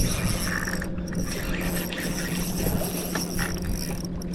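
A fishing reel's drag is cranked up on a kayak while fighting a redfish, giving a steady run of ratcheting clicks close by, with water and outdoor noise underneath and no talking.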